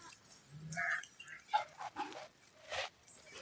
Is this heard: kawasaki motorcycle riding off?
no